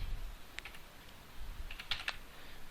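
A computer keyboard is tapped in a handful of light, irregular keystrokes while HTML text is written. The sparse clicks sit over a steady low room hiss, and no one speaks.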